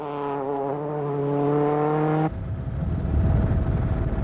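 Ford Focus WRC rally car at the 2002 Rallye du Valais, a loud engine drone with steady harmonic whine that cuts off abruptly into broadband rushing road and gravel noise, close and alone.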